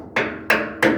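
Three sharp, evenly spaced metallic hammer strikes ring out close and loud while a steel part is installed, each blow decaying briefly before the next.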